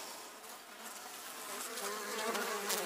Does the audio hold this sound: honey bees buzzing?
yes